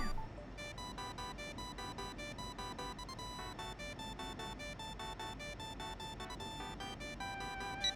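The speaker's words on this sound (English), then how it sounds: "I love how his ringtone is athletic too" Bright, looping electronic jingle from the email ringtone in the video game Paper Mario: The Thousand-Year Door, a steady run of chiming synth notes playing continuously at even volume, with no talking over it.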